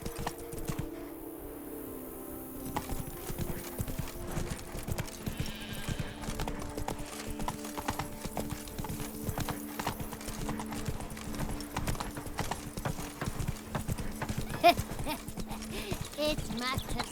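Hooves of the horse Roach clop rhythmically in The Witcher 3, a steady galloping beat running under game music and occasional voices throughout.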